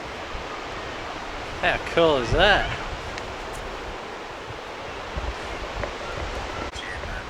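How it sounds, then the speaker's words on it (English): A waterfall out of sight around a corner along the Gibb River Road gives a steady, distant broadband roar that fills the whole clip, with a person talking briefly over it. "I can hear the waterfall, but can't see it yet"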